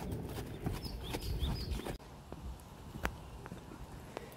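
A horse canters during a riding lesson, its hoofbeats making a soft, rhythmic clip-clop at moderate distance over a steady background hum, with no talk.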